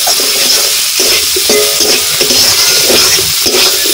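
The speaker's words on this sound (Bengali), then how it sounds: "এখন আমি ভেজে রাখা আলুগুলো দিয়ে দেব, দিয়ে আর একটু সময় কষিয়ে নেব মশলার সঙ্গে।" Fried potatoes stirred into spice paste in a hot pan for a shingi fish curry, giving a loud, steady sizzle with scraping stir strokes close up and no talk.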